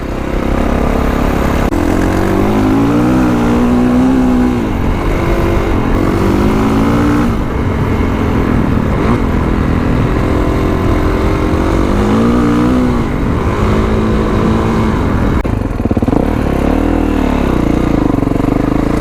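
A Kawasaki KLX351 dirt bike rides up and down with a steady, loud engine drone, its pitch rising and falling through repeated revs and gear changes, close to the listener with no talk.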